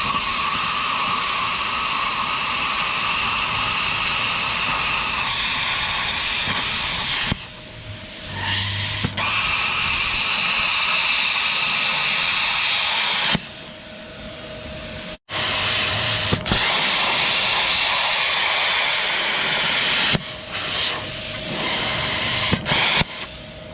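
An ESAB plasma cutter slicing through a metal pipe gives a loud, steady hissing roar that cuts out and restarts several times, with brief pauses and clicks between bursts.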